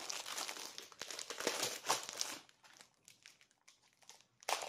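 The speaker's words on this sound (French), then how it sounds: "Désolée pour le bruit de papier." Sheets of paper crinkle and rustle up close, a busy stretch of crackling that thins out into sparse rustles before one last crinkle.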